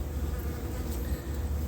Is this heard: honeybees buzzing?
yes